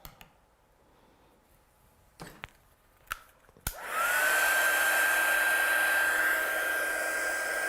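A few scattered clicks and knocks, then a hair dryer switches on and runs in a steady, loud, close whoosh with a whine as it dries paint on a painting in an art studio.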